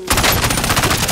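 Rapid automatic FFAR rifle fire in a shooter video game, a loud close burst of evenly spaced shots rattling for about a second with no talk.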